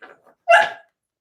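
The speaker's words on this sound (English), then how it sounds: "I apologize for the dog stuff going on here." A visiting puppy indoors lets out a single sharp bark, preceded by a couple of soft little yips, close and alone.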